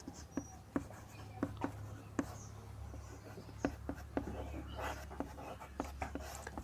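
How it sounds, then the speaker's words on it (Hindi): Pen scratching out the final answer of a Class 10 triangle maths problem, a faint run of short irregular writing strokes over a steady low hum, with no talk. "अब यहाँ से लिखेंगे फाइनल आंसर क्या हो जाएगा"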